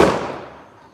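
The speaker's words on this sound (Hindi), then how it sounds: "ये तो पटाखे हैं।" Firecrackers bursting close by, one loud crackling blast that decays over about a second into a fading rattle.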